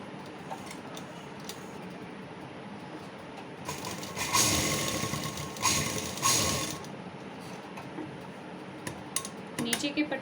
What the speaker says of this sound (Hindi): स्टिच कर लें